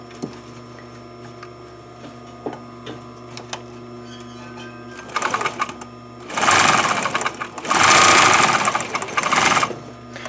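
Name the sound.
sewing machine doing a zigzag stitch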